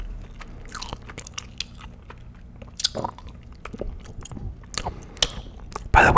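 Gum is chewed close to the microphone behind cupped hands: soft, wet, irregular clicks and squishes in a steady chewing rhythm, with a sharper crackle at the end.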